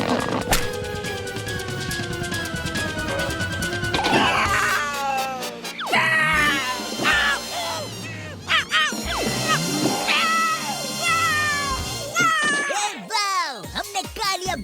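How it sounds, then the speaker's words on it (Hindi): A cartoon cat yowls, meows and caterwauls in long, wavering, loud cries, with comic sound effects and short bursts of character voices in between. "हमने कालिया बिल्ला को भगा दिया यार"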